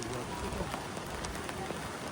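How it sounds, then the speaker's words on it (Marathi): Rain falling in the Taiwan countryside near a rocky beach area, a dense, steady hiss of drops on surfaces that fills the whole moment evenly. "पाऊस वाढतोय"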